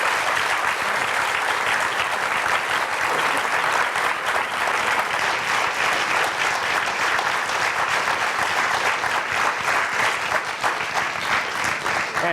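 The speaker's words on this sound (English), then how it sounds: "please join me in giving a warm round of applause for Steve Harvey and Mary Deacon" Sustained audience applause for Steve Harvey and Mary Deacon after a mental health talk, a dense, loud wash of many hands clapping at once, holding steady for the whole stretch without letting up.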